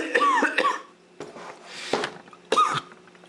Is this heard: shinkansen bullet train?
no